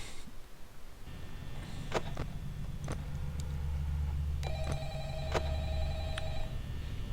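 Telephone ringing in the Five Nights at Freddy's video game: steady repeated electronic ring tones with sharp clicks, over a low droning ambient hum, fairly loud and close with no talking.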